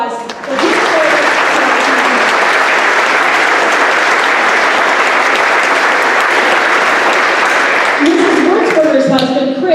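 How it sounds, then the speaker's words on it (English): A school assembly audience gives a loud, sustained round of applause for a National Guard veteran at a Veterans Day event, dense and steady for several seconds before fading as voices return near the end. "Let us give Mr. Ferguson a warm round of applause for his service."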